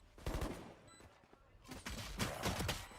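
Gunfire in a Valorant pro match, PRX vs BOOM in the VCT Pacific playoffs: several sharp shots in quick bursts, the last clustered near the end, under a busy bed of game ambience and a caster's voice.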